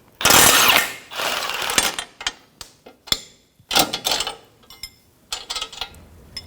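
Half-inch impact gun on an 18mm nut during front ball joint replacement on a 2007-2017 Jeep Patriot 2.4L: a loud sustained burst, then several shorter hammering rattles and clicks, close and alone.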